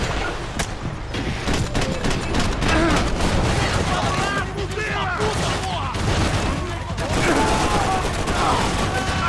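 Sustained gunfire erupts in the video game Max Payne 3, with dense bursts of shots and automatic fire crackling close and loud, mixed with shouting voices and mechanical clatter.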